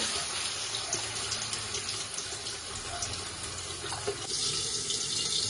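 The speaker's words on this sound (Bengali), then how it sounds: "এরপরে আন্দাজ মতন জল দিয়ে দেবো।" Water pours steadily from a tap or jug into a pan of thin fish curry, a continuous close splashing and gushing that runs without a break and swells slightly near the end.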